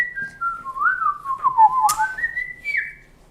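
A person whistles a single sliding melodic phrase, clear and close, gliding down and then back up over a few seconds with a brief breathy burst in the middle.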